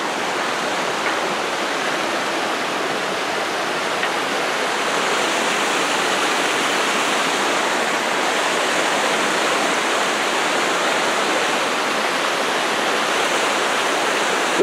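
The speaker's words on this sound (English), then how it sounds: "I think you can see the falls over there" Potato River Falls pours in a dense, continuous broadband roar of rushing water, loud and steady for the whole stretch with no pauses and no talking.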